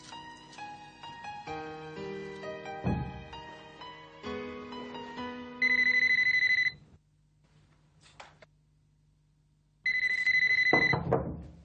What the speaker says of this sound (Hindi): फोन है भाई।